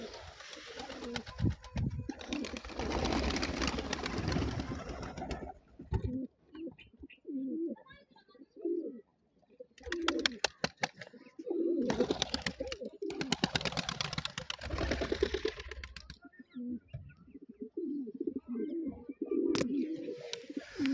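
Pigeon sitting on eggs in a loft, giving soft, low repeated coos in bursts with pauses, fairly close, with other faint bird sounds around.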